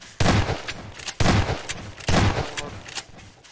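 Three loud, close bursts of rapid gunfire in Garry's Mod, each lasting under a second and spaced about a second apart, with quieter shots in between.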